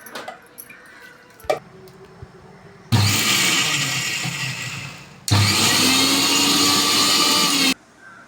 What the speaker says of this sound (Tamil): தேங்காய் பெருஞ்சீரகத்தை நம்ம மிக்சியில் போட்டு அரைச்சி எடுத்துக்கலாம்